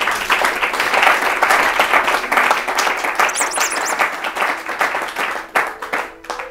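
Church congregation applauding during a Sunday service, a dense, loud burst of many hands clapping that fades slightly toward the end, with faint voices mixed in.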